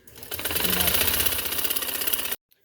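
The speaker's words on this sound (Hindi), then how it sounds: "चलो ये सारी इसी तरह मैं इसको सिलाई लगाती हूँ" A sewing machine stitching a neck strip for a high neck design spins up, hums at a steady fast mechanical clatter close by for about two seconds, and cuts off sharply.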